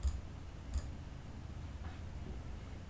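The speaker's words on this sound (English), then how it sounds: "I'm going to click it again." A computer mouse clicks twice, with quiet, sharp ticks about a second apart over a low background hum. No one speaks.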